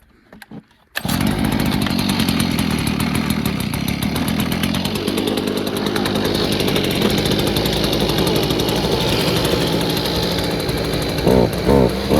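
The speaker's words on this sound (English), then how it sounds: "We're gonna use our friend the blower." A gas-powered blower starts after a second of quiet and roars loudly and steadily for the remainder, near and unbroken, with no voices, beside a Ford F-350 diesel truck that has been sitting for 19 years.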